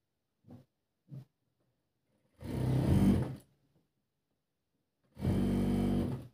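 A sewing machine stitching the pleats of a can-can lehenga: two brief taps of the needle, then two longer, close runs of about a second each, separated by silence.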